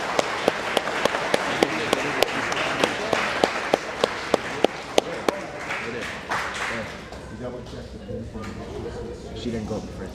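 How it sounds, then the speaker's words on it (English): Audience applause for service award winners at a Grade 10 pin assembly, with sharp individual claps ringing out over a dense crowd clapping that fades toward the end, voices mixed in. "give a big round of applause for our service award winners"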